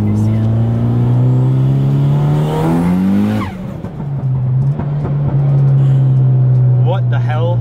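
Mitsubishi Evo 8 running a tank close to E85 ethanol fuel revs hard through a gear, engine note climbing steadily before a quick shift and renewed pull, loud and close from inside the car, with faint voices underneath.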